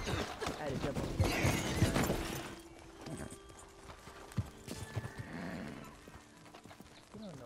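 A horse clip-clops and whinnies in a video game, hooves clattering alongside crashes and breaking sounds while players talk over it.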